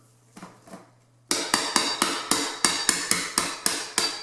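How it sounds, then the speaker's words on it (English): A small hammer taps around the base of a Toto toilet: after a few faint knocks, about eleven sharp, evenly spaced strikes ring out close and loud. "give it some hammer."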